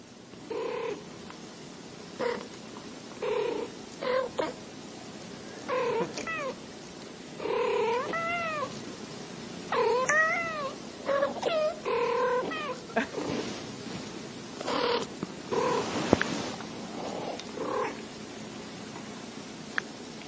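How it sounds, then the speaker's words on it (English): Two calm, relaxed cats trade a series of drawn-out meows and chirping, warbling calls, one after another, over a faint steady hiss, with a brief quiet voice partway through. "So this is two very nice, calm, relaxed cats."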